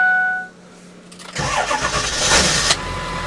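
A Ford F250 with a 7.3 diesel engine starts: a short cranking whir, then the engine catches and settles into a loud, rough, close idle.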